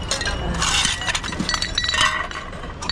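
Glass items clink and crack while being sorted through discarded household goods, a busy close run of sharp chinks and breaking sounds, some louder than others, with scattered knocks.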